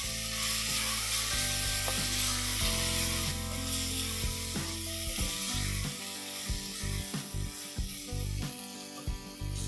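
Turmeric and mutton masala spices frying in a hot pan for Koli-style mutton masala: a loud, continuous sizzle close up, broken by a few scrapes and stirs of a spoon, with no voices.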